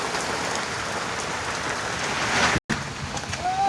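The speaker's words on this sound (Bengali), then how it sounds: "এই যে প্রচণ্ড বৃষ্টি হচ্ছে প্রচণ্ড বৃষ্টি" Heavy rain pouring down at a small vegetable market in Diglipur, Andaman and Nicobar, a loud continuous dense roar of drops on surfaces, briefly cutting out for an instant before resuming.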